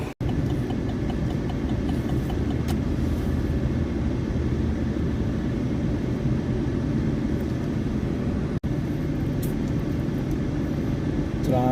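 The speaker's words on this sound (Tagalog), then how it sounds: "Traffic." Steady road traffic and engine rumble fill the cabin of a car driving in Riyadh, a continuous low drone with a brief click partway through and no clear speech.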